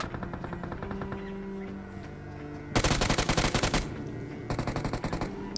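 Automatic rifle fire in the battle-royale game BGMI, with dense rapid bursts of gunshots that swell louder midway and again near the end over steady game ambience and background music.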